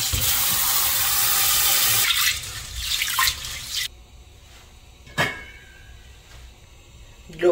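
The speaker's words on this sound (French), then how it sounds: "Nous allons laver le pois." Running water pours steadily into a sink as peas are washed, a loud tap stream for about two seconds, then fainter splashing and a few brief drips and swishes close by.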